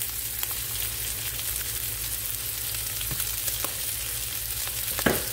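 Steady sizzling of sausage browning in olive oil and butter in a pan, a constant crackling hiss with occasional pops and a brief stir near the end.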